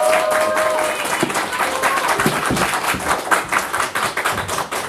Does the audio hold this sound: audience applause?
yes